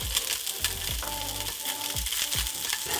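Fish sizzles steadily in a hot pan, with a close, continuous frying hiss and a few soft clinks and stirring scrapes over it.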